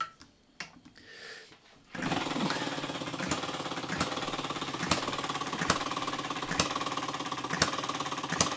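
A RETROL & MUSA HM-01 hit-and-miss engine starts on its first test run and then runs steadily, with loud, regular knocking beats over a rattling mechanical drone.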